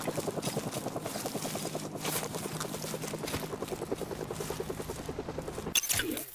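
A helicopter in the video game Call of Duty 4: Modern Warfare Remastered thumps overhead with fast, steady rotor chopping and a droning engine, holding close and loud before a sharp noise near the end.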